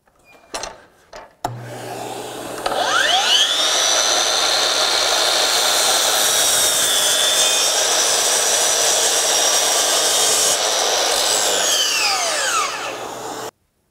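A DeWalt FlexVolt 60V DCS781 12-inch double bevel sliding miter saw spins up with a rising whine, then holds a loud, steady cutting roar for about ten seconds as it trims a piece, and winds down at the end.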